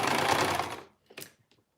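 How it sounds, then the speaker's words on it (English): Home sewing machine running steadily for under a second, a dense close whir that cuts off abruptly, followed by a few faint clicks and light handling knocks. "something going on with my sewing machine"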